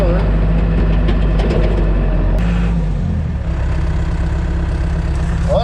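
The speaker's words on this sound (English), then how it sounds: "Load the skid steer on the trailer." A skid steer's diesel engine running steadily while it is loaded onto a trailer, a loud, close, low rumbling drone that dips and shifts partway through, with people talking over it.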